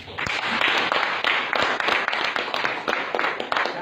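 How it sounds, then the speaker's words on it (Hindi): A congregation at a sermon claps together in a dense, sustained burst of applause, many hands striking in quick irregular rhythm at steady loudness for a few seconds. "उसके लिए ताली बजाओ।"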